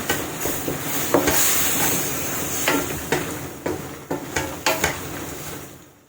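Squash, jackfruit, beans and long chili stirred in a pan, with a spatula clacking and scraping in an uneven rhythm over a soft background sizzle. The sound is close and fairly loud, with no talk.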